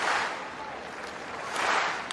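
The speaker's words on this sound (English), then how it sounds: "Listen to the reaction from the crowd." Stadium crowd at the Commonwealth Games women's heptathlon high jump applauding an athlete, a broad distant wash of clapping and cheering that swells toward the end.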